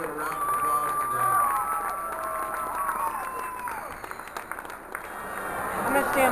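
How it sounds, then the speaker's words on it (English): A rodeo crowd applauds ribbon ropers, a loose spread of clapping and murmur heard over an announcer's amplified voice, with the crowd noise swelling slightly toward the end. "Give those ribbon ropers, all of them, if you would, a round of applause today."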